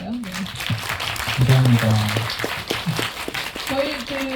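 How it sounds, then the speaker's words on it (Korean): A film-event audience gives brief applause for a director after a screening Q&A, with dense clapping running under a close speaking voice that carries through most of the stretch. "감독님의 작품을 다시 보고 싶으신 분들 많을 텐데 좀 저희가 에너지를 박수로 한번 드릴까요?"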